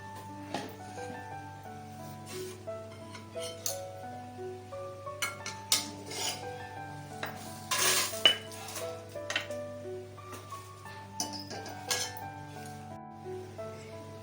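Roasted chillies scooped out of a pan while making sambar masala, with faint metal clinks and scrapes of utensil against pan, scattered and soft over a background of steady music.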